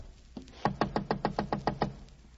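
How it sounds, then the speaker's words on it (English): Knuckles rap on a rickety wooden door of a small third-floor room, about eight firm, evenly spaced knocks after a faint tap, close and alone with no talk. "so I got up the stairs, found the door, and knocked."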